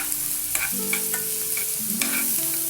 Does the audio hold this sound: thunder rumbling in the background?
no